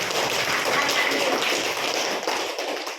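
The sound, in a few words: class applauding the first group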